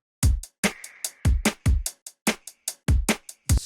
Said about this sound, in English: Super bright hi-hat, as you can hear